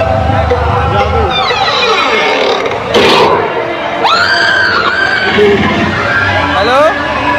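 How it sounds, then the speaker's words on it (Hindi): Dense crowd noise at the Armapur fair in Kanpur, a constant loud babble of voices with shouts, whistles and passing vehicles, close around the listener. "भीड़ बहुत ज़्यादा है"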